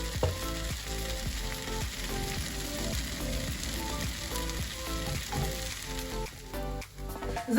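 Liver seasoned with salt and pepper stews in a pan for a liver cake, giving a soft continuous sizzle with faint scraping and clicking of stirring throughout, quiet and without voices.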